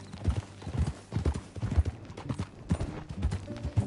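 Horse hooves clip-clop in a quick rhythmic gallop in the video game Red Dead Redemption 2, close and loud, with a brief whinny-like tone near the end.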